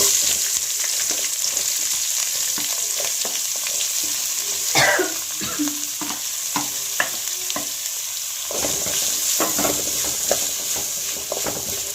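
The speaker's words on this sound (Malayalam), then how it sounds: "അതും കൂടെ ഒന്ന് വഴറ്റിയെടുക്കാം ഒത്തിരി അങ്ങ് വഴണ്ട പോണ്ട ചെറുതായിട്ട്" Onions sautéing in a pan with browned urad dal for masala dosa filling sizzle steadily up close, punctuated by repeated spoon scrapes and stirring knocks throughout, with no talk.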